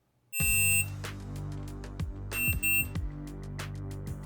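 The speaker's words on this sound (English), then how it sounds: "Once this time is over, the timer will give an end signal and finish the session." A shot timer for practical shooting sounds its end signal, a loud electronic beep that cuts in sharply, then is followed by several sharp gunshot-like bangs with ringing tails. There is no talk.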